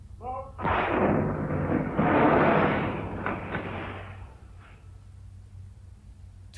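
A torpedo firing effect in a WWII destroyer versus U-boat radio drama: a short mechanical clunk, then a heavy, booming whoosh that swells, holds for a few seconds and fades, over a low steady hum.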